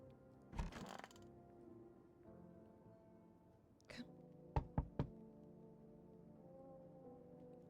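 Someone knocks on a door in the video game No I'm Not A Human: a single thud, then a quick series of three or four sharp raps, loud against a low background hum.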